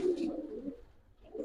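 A Kaldom high-flyer pigeon gives a short, low coo close by, one rolling phrase that fades, followed by a faint second murmur.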